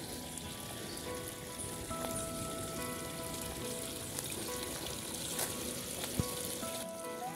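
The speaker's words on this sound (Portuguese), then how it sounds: "dá pra ver que a água passa por baixo" Water runs beneath a stone slab at an old factory, a steady, dense trickling and splashing close by that fills the whole stretch at an even level, with a few sharper drips and knocks and no talking.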